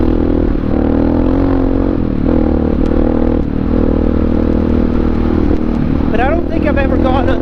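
A Honda XR650R supermoto motorcycle riding fast over a bumpy road, with a steady loud engine drone and wind rush throughout, plus brief clatter and a short revving rise near the end.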